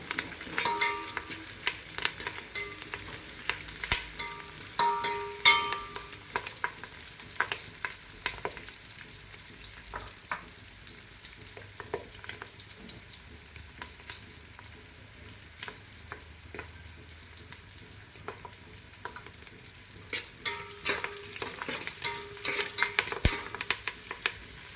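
Food roasts in a pan with a soft continuous sizzle, punctuated by intermittent stirring scrapes and light clinks, fairly quiet and close.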